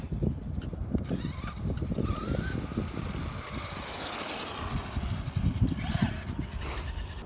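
A Traxxas Slash RC truck accelerates hard in a wheelie attempt, its electric motor whining and rising in pitch over a continuous gritty rumble of tires on the ground, fairly close and steady.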